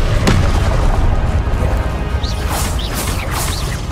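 Incendio fire spell cast in Hogwarts Legacy, heard as a loud dense burst with a sharp onset early on, followed by a sustained roaring crackle and several faint bright chirps near the end.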